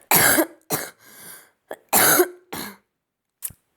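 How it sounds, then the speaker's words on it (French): Someone coughs hard in a burst of roughly six harsh, close coughs with short gaps, some sounding like throat clearing, loud and with no other sound behind them. "Ça m'en a fait tousser tellement."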